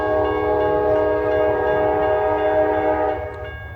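A train horn blasts loud and sustained as a train approaches on an elevated curve, with the rumble of the rail cars beneath before the horn cuts off.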